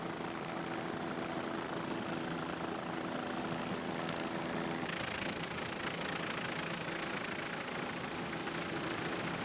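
Racing superboat engines roar in a powerful, continuous drone during a 2001 APBA world championship race off Key West, loud and unbroken throughout, with a slight shift in tone midway as the boats round a turn.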